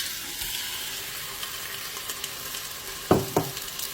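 Meat going into hot oil in a pot, a soft steady sizzle with a couple of sharper spits and clatters near the end, close and alone.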